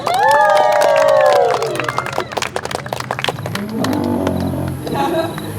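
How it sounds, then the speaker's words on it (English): A live show audience at a Jurassic Park triceratops encounter at Universal Fan Fest cheers and claps after a roaring creature call at the start, the crowd noise rising in scattered bursts and then settling into softer applause. "Round of applause for Juliet, everybody."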